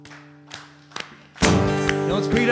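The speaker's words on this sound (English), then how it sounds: "Clap along" An audience claps along to a fast country ten-step song at a live songstage show, with a few scattered claps first and then steady rhythmic clapping under loud music.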